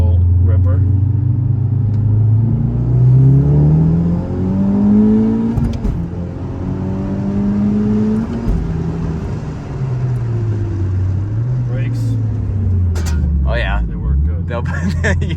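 A Honda Civic Type R pulling in second gear up to about 3,000 RPM, a loud rising engine drone heard from inside the car, with people talking over it.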